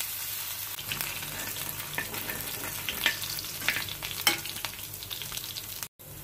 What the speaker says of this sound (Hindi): यहाँ पर हम अदरक डालेंगे।